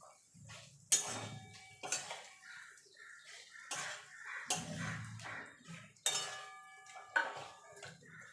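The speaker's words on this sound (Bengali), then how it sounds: "এবার দিয়ে দেবো পটলটা।" Chopped pointed gourd (potol) dropped into a pan of cooked spice mix, a series of clinks and scraping stir knocks spaced about a second apart, close and fairly quiet without talking.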